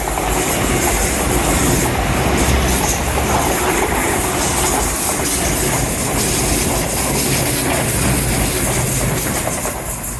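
A train passes along the seafront, a loud, steady roar of wheels and rail clatter filling the whole stretch without fading, close by and with no voices over it.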